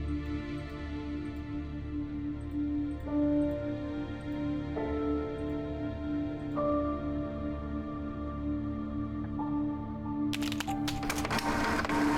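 A printer printing a picture in the video game Monolith: a steady mechanical whir with stepped tonal shifts as it runs, ending in a brief burst of clattering, quiet and alone.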